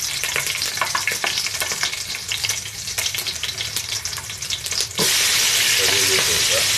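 Green chilies frying in hot oil with fenugreek and cumin seeds for a Palakkad chicken kuruma, a steady close sizzle with crackles and stirring that swells louder and denser near the end.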